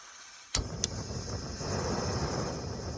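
A Jetboil gas camping stove igniting at a Colorado mountain camp: a sharp click of the igniter, a second click, then a steady loud roaring hiss of the burner running close up.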